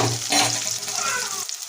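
Onions sauté in a pan for a chicken curry, a brief close sizzle with a spatula scrape near the start that fades out quickly.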